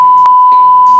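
A loud, steady censor beep tone runs straight through, with faint muffled voice fragments bleeding in around it.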